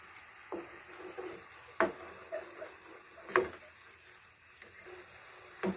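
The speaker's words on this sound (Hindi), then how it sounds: "अभी हम मसाले को अच्छे तरीके से भूनेंगे।" Spices roasting in a pan for mash dal, a faint steady sizzle broken by a few sharp spoon scrapes and taps against the pan at uneven intervals.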